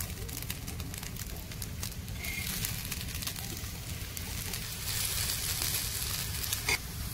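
Oil hitting a hot pan while cooking chowmein gives a steady, dense sizzle that carries on throughout, moderately loud and close, with a little clatter of stirring.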